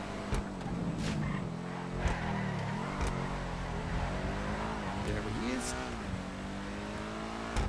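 A race car engine hums steadily with shifting pitch in a racing video game while queuing behind the safety car, with occasional brief clicks and someone talking over it.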